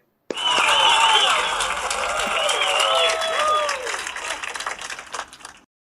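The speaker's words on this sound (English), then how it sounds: "I get the white people to clap it up for us one time" A crowd breaks into loud applause that swells quickly, holds steady, then thins out and fades over several seconds, with voices mixed in.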